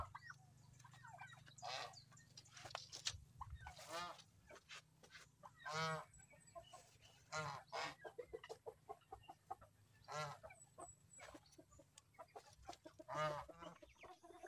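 Geese and turkeys honk and gobble repeatedly in overlapping bursts, a noisy flock heard from a moderate distance with no talking.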